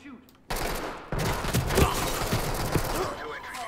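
Gunfire in the tactical shooter game Ready Or Not, a sustained rattling burst of shots that starts abruptly and keeps going loud and close.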